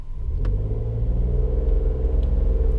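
A 2017 Toyota car engine rumbles and pulls away from traffic lights, a loud, steady low drone heard from inside the cabin as it accelerates, with no talking.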